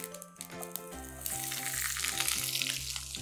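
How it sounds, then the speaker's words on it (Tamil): Fennel seeds spluttering in hot oil during tempering for a ghee chicken chukka, with a steady sizzle and scattered crackles over music, growing louder and denser after the first second. "இந்த சோம்பு தாளிப்பாக போடுறேன். இந்த சோம்பு லைட்டாக பொறிஞ்சு வர டைமில்"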